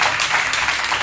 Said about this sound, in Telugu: అందరూ కూడా చప్పట్లు కొట్టండి.